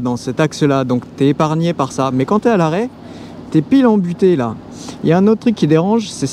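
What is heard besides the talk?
No everyday noise stands out behind the speech.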